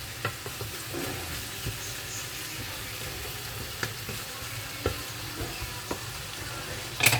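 Green beans cooking in a covered pan over a shallow layer of water give off a steady, soft, hissing sizzle dotted with small crackles and pops, fairly quiet throughout.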